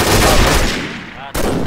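Loud automatic gunfire in a shooting video game rattles in a dense, continuous burst, cuts off briefly, then resumes just as hard.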